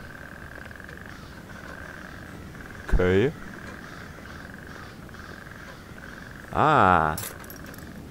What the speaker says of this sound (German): herrlich süß gemacht hier mit den kleinen Fröschen